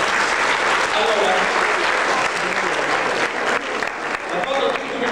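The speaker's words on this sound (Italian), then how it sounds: "vi inviterei naturalmente a un applauso" An audience applauds at a volunteer calendar photo award ceremony, loud, sustained clapping from many hands with a few voices mixed in.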